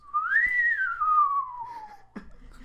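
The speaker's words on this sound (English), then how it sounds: "A man whistles in the distance." A man whistles a single long sliding note that rises and then slowly falls, clear and fairly soft as if from some distance, followed by a faint thump.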